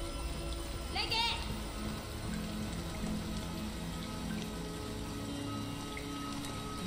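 Rain falling in the video game Lorelai, a steady wash of patter and drops, with a faint voice or short vocal sound near the start.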